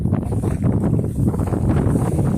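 Strong wind buffets the microphone in loud, continuous gusts, a heavy low roar that never lets up.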